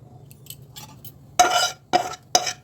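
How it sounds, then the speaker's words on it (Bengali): Pieces of mutton dropping into a metal kadai, with a few light clinks first and then three sharp, loud clattering thuds in quick succession, close up, with no talk. "একটা কড়াইতে ঢেলে নিচ্ছে"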